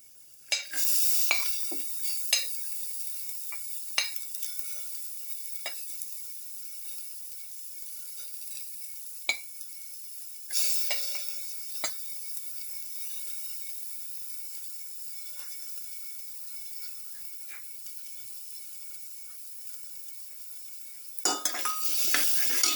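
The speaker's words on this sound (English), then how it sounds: "saute garlic" Garlic and curry leaves sauté in a pan with a steady high sizzle, broken by scattered sharp clicks and scrapes of a utensil stirring, close and moderately quiet.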